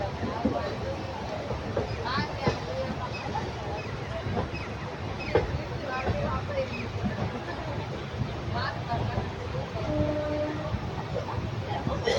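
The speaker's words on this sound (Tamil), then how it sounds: "திருச்சிராப்பள்ளி மொத்த ஜங்ஷன் பாருங்கள்" Train rumbling through Tiruchirappalli Junction railway station, a steady loud rolling roar with rail clatter and faint horn-like tones, with voices murmuring in the background throughout.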